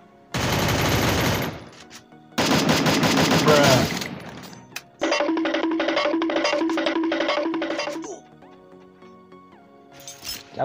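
Garena Free Fire gunfire: three long bursts of rapid automatic shots separated by short pauses, the last one a tight, evenly spaced rattle. A single shot comes near the end, and nobody speaks.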